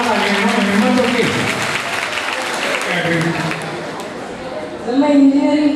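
A seminar audience breaks into loud applause, a dense burst of clapping that fades out while voices carry on over it before another swell of sound returns.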